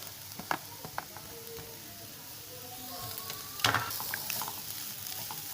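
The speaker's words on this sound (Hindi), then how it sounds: "अब हम इसमें इसके साथ ही चिकन डाल देंगे" Chicken pieces fry with shredded cabbage in a pan for samosa filling, a continuous moderate sizzle with scattered clicks and scrapes of a spatula, growing busier and louder toward the end.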